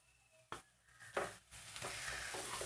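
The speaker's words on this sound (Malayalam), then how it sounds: "ഇതൊന്ന് നല്ലതായിട്ട് വഴറ്റി കൊടുക്കണം" Chicken pieces stirred and sautéed in spiced masala for Kerala chicken mappas, with a soft steady sizzle under intermittent scraping stirs, close and fairly quiet.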